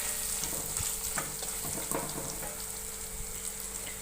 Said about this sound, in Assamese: 1 মিনিট মান ভাজিম।